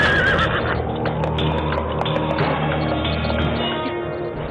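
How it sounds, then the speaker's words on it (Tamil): The queen's horse whinnies loudly up close in a historical drama, with steady clip-clopping hooves and a rumbling background running underneath throughout. "இது மகாராணியின் குதிரை அல்லவா?"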